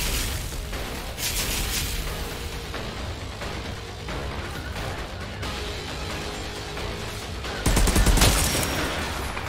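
Enemies fire at the player in the Outriders shooter game, with dense, continuous gunfire that swells into a louder, heavier burst near the end.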